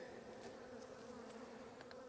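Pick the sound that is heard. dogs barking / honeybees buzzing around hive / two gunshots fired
honeybees buzzing around hive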